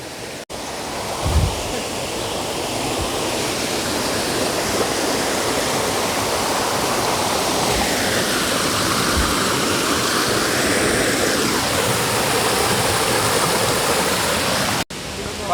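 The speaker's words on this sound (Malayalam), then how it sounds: "നല്ല ആ അരുവി കളകള സൗണ്ടും" A babbling stream runs near Marmala waterfall in Vagamon. Rushing water makes a loud, steady wash close by for the whole stretch, with a brief low thump near the start.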